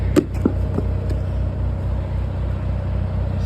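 A CAT 966M wheel loader idles and works nearby while pushing wood, its steady low diesel rumble running throughout with a few faint knocks near the start.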